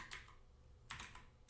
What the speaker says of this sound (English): So to do that, you click on the run, type in these letters.